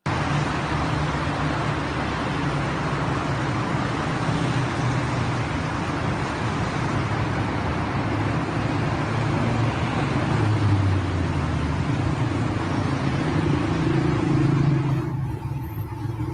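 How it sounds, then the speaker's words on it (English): Steady street traffic rumbles past, cars droning and swelling continuously at moderate distance, with no voices, cutting off abruptly at the end. "It's just car sounds."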